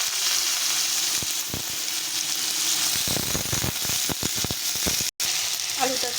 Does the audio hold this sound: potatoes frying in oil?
yes